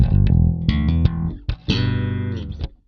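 Clean Fender Jazz Bass played through an Ampeg Portaflex PF500 amp, a short phrase of plucked notes, dry and close, ending in one long sustained note that fades out.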